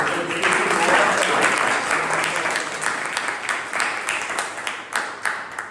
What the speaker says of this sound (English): I need a big round of applause for him.